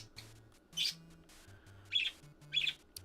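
Small birds squawking and chirping indoors nearby, three bright bursts of calls spaced about a second apart over a quiet background.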